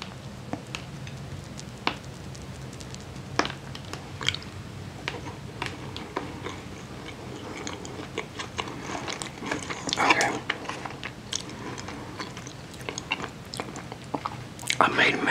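Crunchy cookies, Crumbl and store-bought, crack and crunch in close-miked bites and chewing, with scattered sharp crackles, while a voice talks softly between them.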